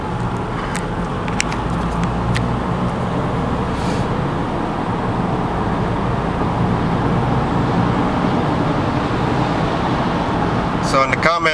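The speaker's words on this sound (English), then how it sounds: "So now we're back to California highway traffic" California highway traffic heard from inside a moving car, a steady low road and engine rumble with cabin hum, continuous and fairly loud, while someone talks over it.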